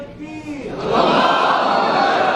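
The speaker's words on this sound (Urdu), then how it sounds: "اب لگاؤ نعرہ، لگاؤ نا نعرہ" At a religious gathering led by a maulana, a crowd answers the call for a slogan. One voice comes first, then a loud, sustained massed shout rises and holds until the end.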